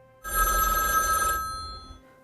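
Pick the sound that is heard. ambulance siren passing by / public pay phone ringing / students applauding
public pay phone ringing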